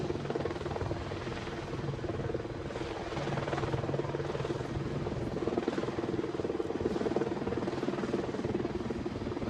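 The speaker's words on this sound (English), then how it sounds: "As you watch Apache move from right to left in front of you, you can see the helicopter's amazing hover performance." An Apache attack helicopter hovers at the Farnborough Airshow 2016, its rotor and turbine giving a loud, steady, unbroken drone that continues throughout.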